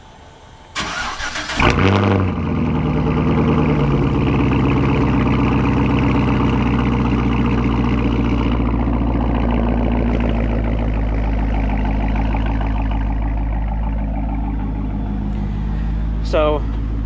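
Super Snake truck with a very loud exhaust starting up on a cold morning, a sharp crank and bark followed by a sustained, rumbling idle that stays loud and steady to the end.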